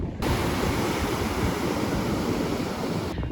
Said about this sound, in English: These waves are crazy too. The ocean is no joke, y'all.